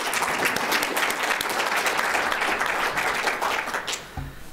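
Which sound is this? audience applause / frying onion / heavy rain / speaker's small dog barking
audience applause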